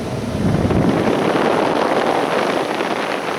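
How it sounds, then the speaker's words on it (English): The blower motor of a Ford Taurus, 1996-2007 model years, runs on high, giving a loud, steady rush of air close to the microphone with no voices. "when I turn it on high, it's starting to blow out real nice cold air"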